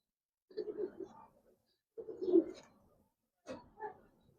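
Giribaz coloring pigeons cooing in a loft, three separate soft, close coo phrases with quiet pauses between them.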